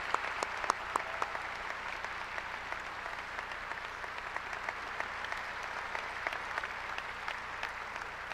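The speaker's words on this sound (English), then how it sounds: "Let's give these students a round of applause." Sustained audience applause at a 2016 Blue Valley Northwest high school graduation ceremony, a steady wash of many hands clapping indoors with scattered sharper claps standing out, continuous and moderately loud throughout.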